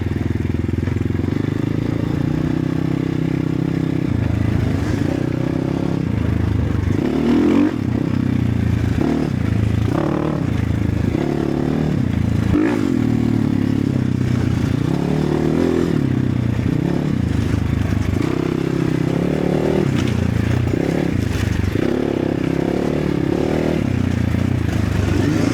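Enduro motorcycle engine straining to pull away on a Tver forest trail, a steady loud low drone with repeated revving surges and clattering scrapes over about 25 seconds, close by, with faint voices mixed in.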